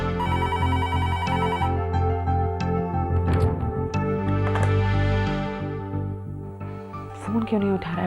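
A phone rings on and on unanswered, with repeated melodic ringtone phrases over a rhythmic musical backing at steady, fairly loud volume, and no voices.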